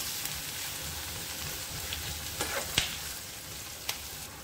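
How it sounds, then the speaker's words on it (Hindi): Onions frying in a pan over medium to high flame until golden brown, for an egg curry, giving a steady soft sizzle with a few sharper crackles and light scrapes, close and fairly quiet. "इन्हें हम कलर चेंज होने तक भूनेंगे, जब तक ये गोल्डन ब्राउन ना हो जाए"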